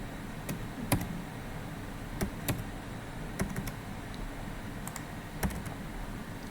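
Keys on a computer keyboard tapped in scattered, irregular bursts while passport details are entered into a Netherlands visa application form, the clicks close and fairly quiet over a low room hum, with no talking.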